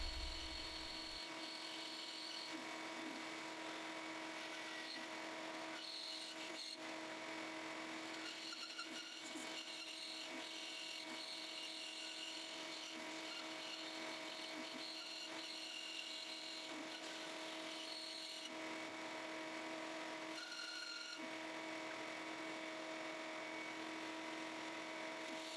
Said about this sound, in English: This shape is a pretty simple design, making it easy to cut out on the bandsaw